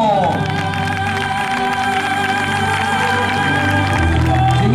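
Applause from the crowd at a horse riding gala, sustained clapping mixed with faint cheering beneath steady background music, continuous and fairly loud from start to finish.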